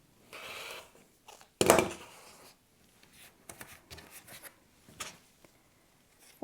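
A cutter trims the edge of quilt fabric, cut from a layer cake square: one short, rough scraping pass stands out among soft rustles and handling noises in a quiet room.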